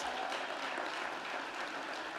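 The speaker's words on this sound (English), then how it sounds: "Give yourself a round of applause." A crowd of about 650 at the Portsmouth State of the City 2025 event claps steadily, a continuous, even wash of applause filling the room at moderate volume.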